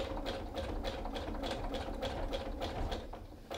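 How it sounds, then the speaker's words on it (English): A sewing machine set to zigzag stitch runs steadily as it tacks a rope coil together, its rapid, even mechanical chatter close and continuous throughout. "the first thing that I'm gonna do is just a few temporary stitches to hold that coil together"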